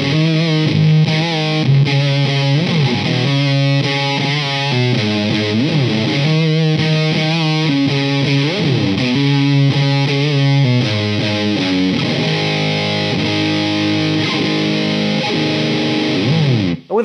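Electric guitar played through a cheap fuzz distortion pedal, thick sustained distorted notes and chords in a melodic riff, loud and alone with no talking.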